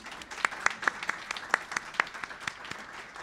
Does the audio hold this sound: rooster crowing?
no